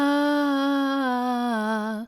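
Breathy singing voice holding one sustained vowel note with air escaping through the vocal folds, a steady close tone with a soft airy hiss that wavers slightly near the end before stopping.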